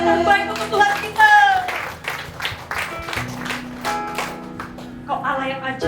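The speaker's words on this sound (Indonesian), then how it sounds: "Berikan tepuk tangan terbaik untuk Tuhan kita." A church congregation at a GBI Sunday worship service in Batam claps and applauds, the clapping mixed with a worship leader's voice and singing over a steady backing tone.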